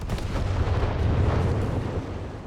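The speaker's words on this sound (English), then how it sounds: "Artillery being called on the captain" Artillery in Company of Heroes 3 rumbles without a break in a heavy, low barrage of overlapping booms and blasts that fills the whole stretch, loud and close.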